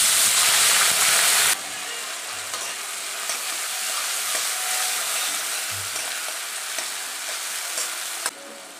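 Chopped onion dropped into hot oil with whole cumin seeds bursts into a loud, steady sizzle, with a sharp crackle at the start that eases into continuous frying hiss and faint stirring.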